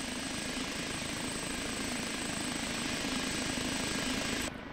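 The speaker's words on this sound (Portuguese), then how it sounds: "E se eu colocar a velocidade negativa, o helicóptero começa" An OH-58D Kiowa helicopter flying backward in the DCS flight simulator gives a steady, loud rotor and engine drone, continuous and unchanging, with no talk.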